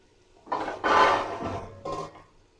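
Goat trotters and stock drop into a pot of fried spice masala in a few short, close bursts of clattering and splashing, separated by brief pauses.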